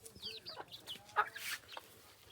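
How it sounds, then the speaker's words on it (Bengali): Chickens cluck in short soft bursts at close range while being fed, with a few sharper calls in a quiet farmyard. "আর গাইস আমাদের মুরগিগুলো এখানে চলে এসেছে এগুলাকে একটু খাবার দিয়ে দিই"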